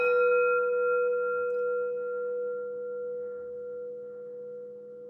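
A single sustained pure tone, marking the air element in a tarot reading, sounds with a bright overtone and slowly fades in loudness, with no voices.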